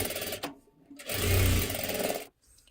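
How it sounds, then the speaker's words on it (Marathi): A sewing machine stitching the side seam of a one-piece jacket runs in two short bursts of rapid close mechanical whirring, separated by a brief pause. "आता ह्या सुद्धा बाजूला शिलाई देऊन घ्यायची आहे."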